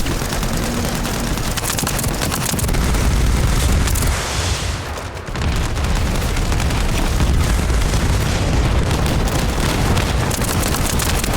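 Missile explosions and heavy weapon fire in the sci-fi shooter game The First Descendant, a dense, loud, continuous roar of booms and blasts with a brief dip midway before the barrage resumes.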